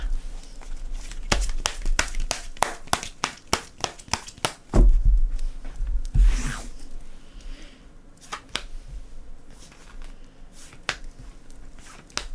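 Tarot cards are shuffled and drawn for a reading, making a run of sharp, close card snaps and flicks in quick succession, then sparser taps and a soft rustle, with no talking over them.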